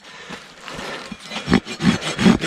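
A rasp files a bevel into the wall of a horse hoof, giving close, loud scraping strokes that start irregular and settle into about four firm rhythmic rasps.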